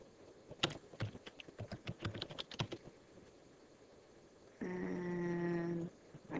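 Rapid, irregular keyboard typing for about two seconds, close and clear, followed by a steady electronic hum with faint tones.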